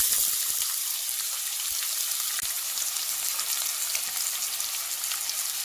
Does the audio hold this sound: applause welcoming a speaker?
no